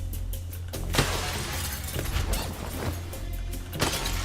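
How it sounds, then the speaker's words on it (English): Glass shattering during a heist in the video game Crime Boss, repeated crunching smash bursts roughly every second over a low engine-like hum, loud and close with no talk. "Don't mind the glass breaking sounds"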